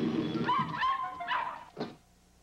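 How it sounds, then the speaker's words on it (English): A dog in a 1980s TV commercial gives a short run of yappy, whining barks and yips, then one sharp final bark before the sound cuts to near silence. "Crazy dog."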